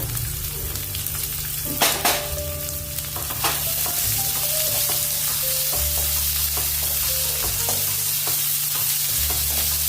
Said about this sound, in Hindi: अभी इसमें हम डालेंगे प्याज बारीक कटा हुआ।